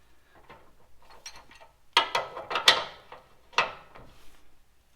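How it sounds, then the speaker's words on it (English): A 22mm bolt on a Bilstein 6112 front lift kit for an FJ Cruiser or 4Runner being tightened with a ratchet, giving a few close, quiet clicking pulls followed by louder metallic ratchet bursts. "22mm bolt. Just going to tighten these slightly."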